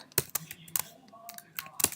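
Computer keyboard keys clack in quick, uneven bursts of sharp clicks, close and fairly quiet, while code is written.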